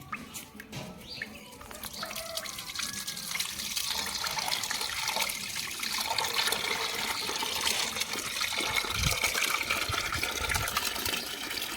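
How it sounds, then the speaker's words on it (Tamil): Chicken pieces washed in water outdoors, a continuous soft splashing and trickling with sloshing bursts, fairly faint, with birds chirping in the background. "கறியை கழுவி கறியை தனியாக எடுத்து வச்சுக்கலாம்."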